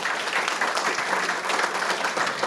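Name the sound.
audience applause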